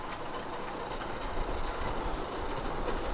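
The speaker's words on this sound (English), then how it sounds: "But you can see the trains going up the hill there." Roller coaster trains climb the lift hill at a Green Bay amusement park, giving a steady mechanical rumble and clatter that is moderately distant and continuous, with no talking.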